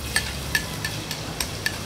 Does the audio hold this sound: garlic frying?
yes